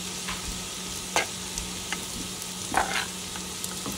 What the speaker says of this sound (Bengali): এখন আমি দিয়ে দেবো কাবাবটা দিয়ে আমি একটু নাড়াচাড়া করে নিচ্ছি যাতে সব কিছু একত্রে মিশে যায়